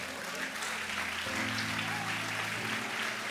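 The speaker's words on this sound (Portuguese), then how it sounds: "as mulheres estão tudo aplaudindo" Women in a church congregation applaud in a steady, dense wash of clapping that fills the room, with a low murmur of voices underneath.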